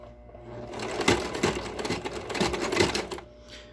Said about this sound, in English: you're going to completely sew over this edge